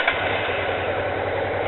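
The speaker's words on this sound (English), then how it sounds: "I figured we'd get the first firing with the new fuel tank in place." A 1989 Honda Hawk GT 650 V-twin, a barn-find sportbike with a new fuel tank, stock lean jetting and a cold engine, fires up and settles into a steady, close, rumbling idle with no talk over it.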